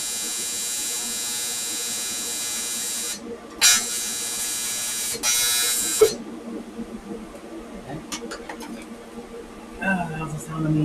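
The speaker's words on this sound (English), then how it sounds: "That was the sound of me dipping my tungsten." A TIG welding arc on a Mazda Protege5 engine bay job buzzes steadily at a high pitch, then stutters and breaks into short bursts as the tungsten electrode dips, followed by quieter crackles and rustling.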